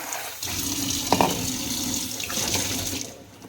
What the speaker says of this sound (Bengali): এখন একবার ধুয়ে তারপরে টিফিনে দেব আঙুর কটা